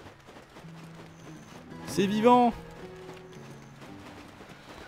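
Horse hooves clip-clop in the online role-playing game Black Desert Online, a short burst of steps amid busy game ambience with a whinny-like tonal call around the middle, while a person speaks over it.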